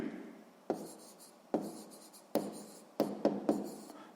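Pen or pencil strokes writing numbers in a notebook, several separate scratching bursts with soft onsets at irregular intervals, close and fairly quiet, with no voices.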